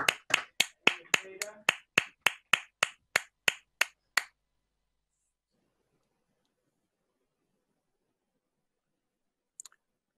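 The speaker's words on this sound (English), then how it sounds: "give yourself and your fellow graduates a big round of applause" Graduates applauding during an online graduation ceremony: a single set of hands claps about fifteen times in a steady, close rhythm for roughly four seconds. Silence follows, broken only by a faint click near the end.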